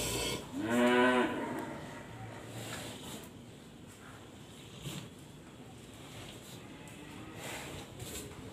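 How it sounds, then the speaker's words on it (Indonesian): A young Ongole crossbreed (PO) cow on a farm gives one loud, close moo near the start, followed by quiet wind and faint ambient farm noise. "Ada penambahan sapi super jenis PO,"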